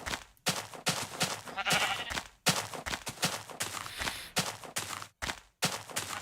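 Sheep in Minecraft bleat repeatedly over a busy, continuous game soundscape, with short wavering calls blending into steady clopping and rustling noise that runs almost without pause.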